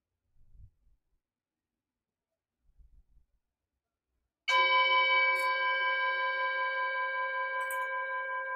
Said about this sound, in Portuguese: Deixe que o som do sino seja um sinal para você relaxar.